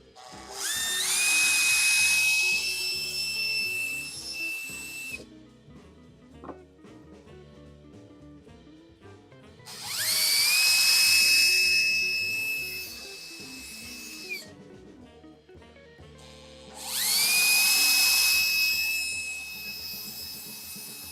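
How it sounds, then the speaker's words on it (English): A power drill countersinks and pre-drills holes in wood in three whining bursts, each spinning up to a high, steady pitch and then stopping, with quiet pauses between them. "you countersink before you pre-drill your holes"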